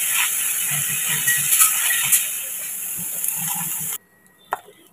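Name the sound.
frying jackfruit in a pan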